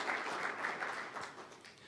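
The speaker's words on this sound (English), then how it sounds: "give them a little round of applause and thanks and appreciation" A round of applause from the audience in a hosting room at an energy policy event, steady dense clapping for about two seconds that thins slightly toward the end, moderately distant.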